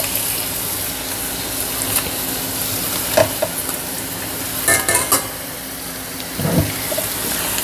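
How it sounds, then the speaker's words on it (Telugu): Small bombidai fish are added to a pot of simmering gravy and stirred. A steady bubbling hiss runs underneath, broken by a few sharp spoon knocks and scrapes against the pot. Nobody speaks. "ఇప్పుడు మనం ఈ చేపలు వేసేద్దాం ఇందులో."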